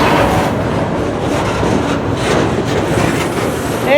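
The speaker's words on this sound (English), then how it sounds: "And here comes the end of the train" The tail end of a CSX freight train pulling TTX cars rolls by close and loud, a dense steady rumble of wheels with clickety-clack and a brief rising squeal near the end.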